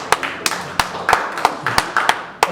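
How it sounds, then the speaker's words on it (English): At a candidates' question-and-answer session in Merritt, B.C., a small audience claps in a quick, sharp, evenly spaced burst of about a dozen hand claps lasting a couple of seconds. "That's my first applause."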